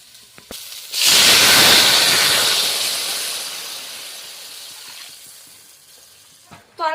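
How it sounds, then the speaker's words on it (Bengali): Water poured into a hot pan of sautéed cauliflower and potato gives a sudden loud hiss of steam and sizzle that slowly fades to a softer bubbling, with a few faint knocks and clicks around it. "সবজিটা আমার ভালোভাবে কষানো হয়ে গিয়েছে এবার জল ঢেলে দিচ্ছি"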